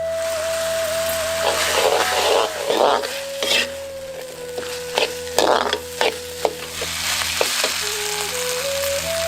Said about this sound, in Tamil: காய்கறி நல்லா வதக்கிட்டு